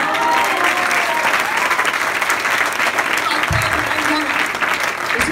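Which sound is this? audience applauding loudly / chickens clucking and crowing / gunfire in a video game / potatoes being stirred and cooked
audience applauding loudly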